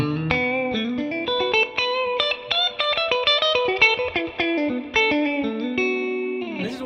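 A Fender Jazzmaster electric guitar dialed to a thick, Telecaster-style tone plays a quick run of plucked single notes and chords through effects, with crisp attacks and short gaps, ending in a ringing bend.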